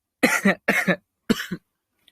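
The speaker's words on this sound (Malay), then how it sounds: "Saya nak batuk." Three harsh coughs in quick succession, close and loud, each a short double burst separated by brief silences.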